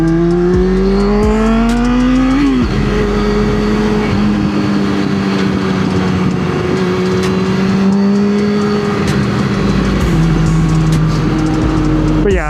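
A Yamaha R6 sport motorcycle's engine revs loud and close while riding, with rising and falling pitch and a sharp downshift blip around the middle, over constant wind rush.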